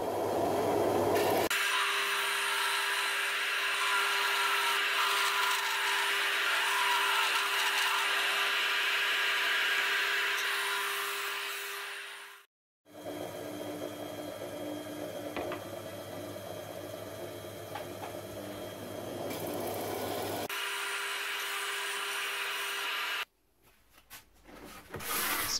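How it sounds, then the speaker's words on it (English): A disc sander smooths the edges of bamboo pieces for a desk shelf. A motor hum runs with a rough rubbing, grinding texture in long passes. There is a brief pause midway and a sharp drop near the end. "The fine-tuning of all edges I did on my disc sander"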